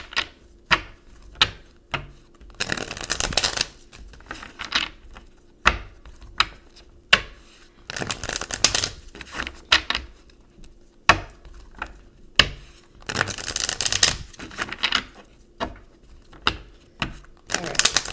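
A deck of tarot-style cards is shuffled by hand for a reading, giving repeated quick riffling bursts and soft taps in a steady rhythm, close up, with no talking over it.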